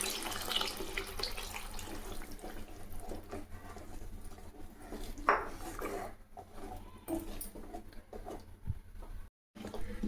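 Tap water runs steadily into a sink while mixer grinder jars are rinsed, with faint clinks of the jars and utensils and a short dropout near the end, no talking.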